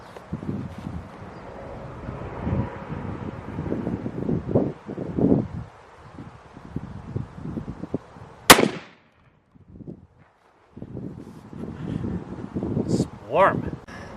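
A Mossberg 940 Pro shotgun fires a single turkey load outdoors, one sharp loud blast amid wind noise, with people talking before and after the shot.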